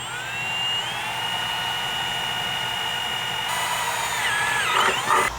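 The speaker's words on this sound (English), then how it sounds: "while we're drilling our pilot holes" Power drill boring pilot holes in the underbody of an S550/S650 Ford Mustang during a RideTech lowering install, a steady high whine that holds for several seconds, then wavers and bites harder near the end, loud and close with no talk.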